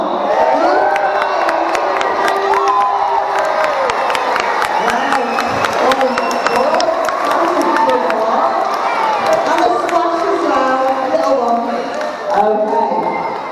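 An audience at a sea lion show cheers and shouts loudly for Roger as he climbs stairs, a dense crowd roar of children's yells and whoops with scattered clapping that stays strong throughout.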